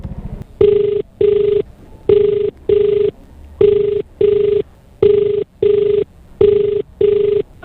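Telephone ringback tone repeating in evenly spaced paired bursts, loud and clear, as a call to a customer rings out on a Lalamove delivery run; no one speaks.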